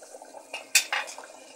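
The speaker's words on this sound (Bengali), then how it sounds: "এখন আমি প্রেসার কুকারের ঢাকনাটা উল্টিয়ে নেব।" A pressure cooker lid is flipped over after cooking beef with potatoes, giving a brief metallic clank and a short rattle, close and fairly quiet.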